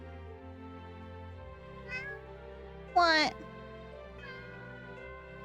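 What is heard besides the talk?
cat meowing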